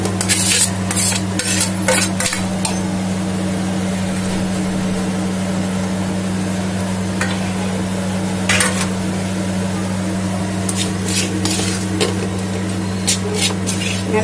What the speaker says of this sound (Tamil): நல்லா மிக்ஸ் பண்ணிக்கலாம்.